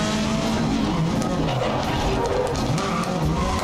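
In the racing video game Grid 2019, a race car's tires lock up and skid under hard braking, a steady gritty screech mixed with engine noise that holds loud and continuous throughout.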